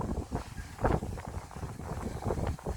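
Steady outdoor wind buffeting a microphone, a rough rumbling roar with gusty swells throughout, no voices.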